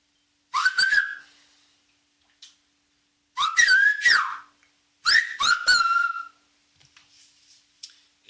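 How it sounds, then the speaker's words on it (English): Silbo Gomero articulated whistling forms three loud, sharp whistled phrases with sliding, swooping pitch. Each phrase is clipped into syllable-like bursts and separated by pauses of silence, with a faint trailing whistle at the end. "so to learn to whistle, you can learn the technique like that"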